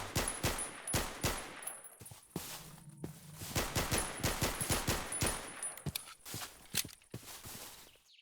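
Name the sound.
Glock handgun firing, Minecraft Superb Warfare mod video game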